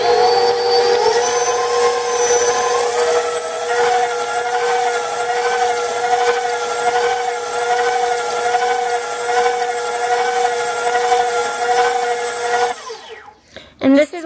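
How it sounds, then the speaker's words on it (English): Electric mixer whirring steadily through cheesecake batter with added sugar, a loud, continuous motor drone with a slightly wavering pitch that holds for about thirteen seconds before cutting off abruptly. "And then you're going to mix it again."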